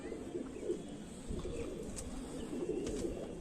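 Pigeon cooing from a prized homing-type Kamagar pigeon with a long beak and small crest, a low soft murmur running steadily throughout, fairly close and moderate in level with no talk.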